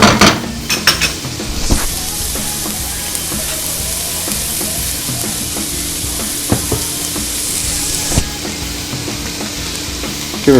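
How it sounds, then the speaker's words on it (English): Potatoes sizzle loudly and steadily in hot oil in a pan, a continuous close hiss broken by scraping and clinking as they are stirred and coated. "You want to hear that nice sound when you first throw it in there. Give those a stir, coat them up with just a little bit of that oil."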